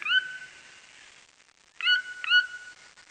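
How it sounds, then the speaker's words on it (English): A toucan call in a jungle setting: a harsh, high, tonal squawk at the start, then a pause and two more matching calls in close succession, fairly loud and clear with no talking over them. "It's a toucan!"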